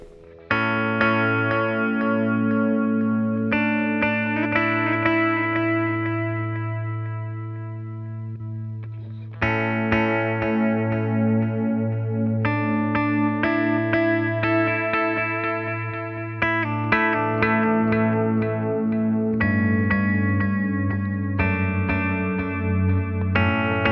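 Electric guitar chords played through a Fractal FX8 delay block with two modulation effects layered, sustained ringing chords with shimmering, swirling repeats, changing every few seconds, loud and upfront with no talking.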